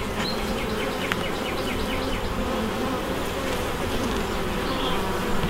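Honey bees buzz as a dense, steady swarm drone while a hive is opened for inspection, with brief higher buzzes of individual bees passing close throughout.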